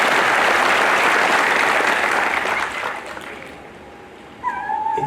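Audience applause after a speaker in Delhi calls for a big round of clapping, a dense, loud wash of many hands that holds steady, then thins out and fades over the last couple of seconds, with faint voices near the end.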